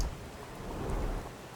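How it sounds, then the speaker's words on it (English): Steady rain falls in a Sherlock Holmes video game, a dense even hiss with low rumbling underneath that swells slightly toward the middle, with no voices. "People don't tend to come out for flowers when it rains."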